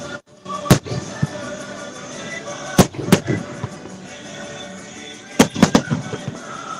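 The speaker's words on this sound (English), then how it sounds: "More fireworks." Fireworks during a show burst in sharp, loud cracks scattered over a few seconds, some in quick doubled pops, over a steady background of music and crowd noise with voices talking.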